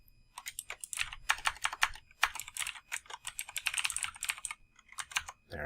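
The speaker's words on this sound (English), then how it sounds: "I'm going to go ahead and type in my name." A name being entered on a computer keyboard: quick, close, fairly soft clicking keystrokes in an uneven stream with brief pauses, ending on a firmer press.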